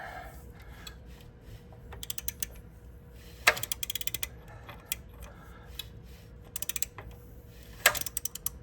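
A 2015 VW Jetta 1.8T engine idles with a new timing chain tensioner, giving a steady mechanical clatter with faint ticking and periodic louder clicks and bursts, close up with no talking.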